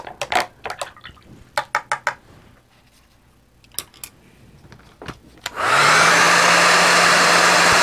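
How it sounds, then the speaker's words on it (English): Several sharp clicks and taps precede a hair dryer switching on, then blowing with a loud, steady whooshing hum to the end. "I used my hair dryer to dry everything up"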